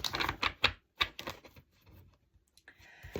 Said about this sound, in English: Let's do a nice little shuffle and open up these cards as well.